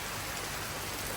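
Steady rain falls outside at night, a dense, even hiss of drops with no breaks over a brief moment, moderately loud and without voices.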